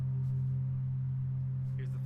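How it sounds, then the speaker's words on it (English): A sustained low suspense tone added as a sound effect, a steady droning hum with faint harmonics that holds evenly throughout, alone with no talk. "They're all sounds I add. Suspension tones. They add suspense."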